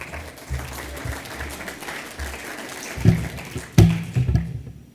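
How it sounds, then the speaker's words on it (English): An audience applauds a speaker being called up at a talk, moderate steady clapping carrying across the room, with a couple of low thuds and knocks near the end as it tapers off. "So big round of applause for Dr. Jay Lehr."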